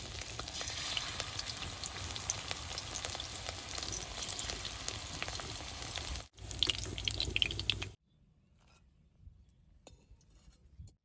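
Kochu flower chop frying in hot oil gives a steady, close, crackling sizzle for several seconds that stops abruptly, followed by quiet room sound.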